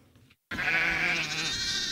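Sheep bleating on a farm: one loud, close, wavering bleat begins abruptly after a brief quiet moment and carries on for over a second.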